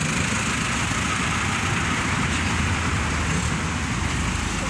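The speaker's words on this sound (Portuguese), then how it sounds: "Aí vem vindo um caminhão Volkswagen topo com a cabine igual do carro da pesada da temporada de 2002." A Volkswagen truck with a cab like the 2002 season model approaches on a road, its engine a steady broadband rumble with constant traffic noise throughout, loud and close, with no voices.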